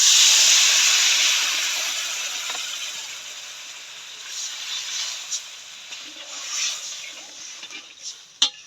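Water poured onto chilli and coriander powder frying in a pan for rohu fish curry gives a loud hiss of steam that fades steadily, followed by light scrapes and small knocks.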